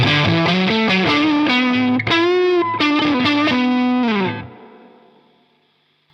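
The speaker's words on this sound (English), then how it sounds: "let's try some more distortion" A cheap electric guitar with heavy fuzz distortion plays a choppy run of chords and notes, loud and saturated, then rings out and fades away.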